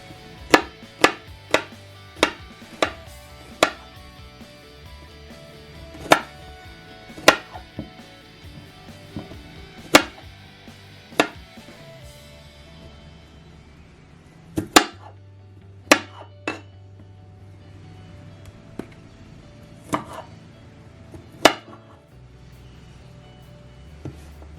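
Garlic is chopped with a knife straight on a hard kitchen counter with no board, making sharp, irregular knocks: quick bursts of hits, then scattered single strikes with pauses between, close and clear with low kitchen hum behind.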